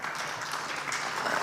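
A brief, fairly soft wash of audience applause for the panelists at a conference session on desalination and water solutions, with dense, even clapping throughout.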